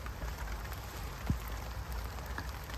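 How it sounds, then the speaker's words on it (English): Rain coming down outdoors during gardening, a soft continuous patter on surfaces with one brief louder drop or tap, fairly quiet and steady. "I love gardening in the rain."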